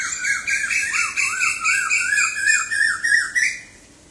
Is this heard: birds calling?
yes